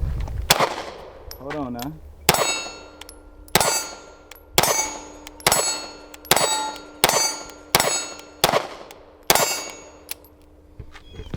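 Ten pistol shots from a CANIK Mete MC9 with a 12-round magazine ring out at 10 yards against steel targets, each sharp crack followed by a metallic clang, fired at a steady pace; a voice speaks briefly before the string.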